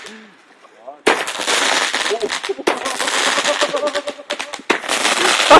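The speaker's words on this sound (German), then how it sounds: "Da kommen jetzt auch die Knaller da unten aus den unteren Dingern" Firecrackers from a fireworks display crackle in dense, rapid volleys of loud pops, continuing almost without pause for several seconds after a quiet start.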